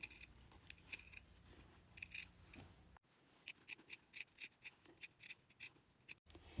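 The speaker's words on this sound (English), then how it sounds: "I am going to cut right in here, and I'm going to cut around the circle." Sharp scissors snip through fabric around a circle for a sewing project, making close, crisp cuts in a quick uneven rhythm with brief pauses, no talking.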